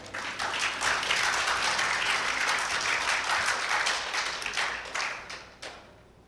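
Audience applause at a Mangrove Jeopardy challenge event: a room full of steady, dense clapping that holds for about five seconds, then thins out into a few scattered claps and fades.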